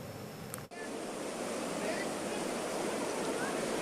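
Floodwater from rivers overflowing after heavy rain in Mataram, West Nusa Tenggara, rushes in a continuous, dense roar that holds steady after a brief cut at the start.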